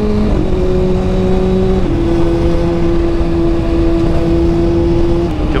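A 2012 Kawasaki ZX6R motorcycle engine revs loud and close, its pitch holding steady, dropping, then climbing again in a sustained, raspy howl with no talking.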